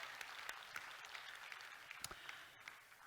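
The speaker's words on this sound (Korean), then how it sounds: "박수하겠습니다." A church congregation claps together in steady applause, moderately distant in a large room, fading slightly toward the end.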